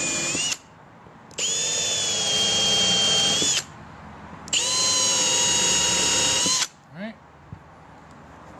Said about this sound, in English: You don't have to go in there, just drill through this.